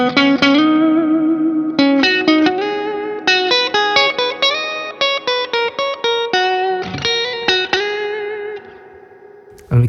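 An electric guitar played through a Fjord Fuzz Overflod pedal set for ethereal reverb with the tone turned down, sustained distorted chords ringing in washy layers with quick strummed changes, alone and loud.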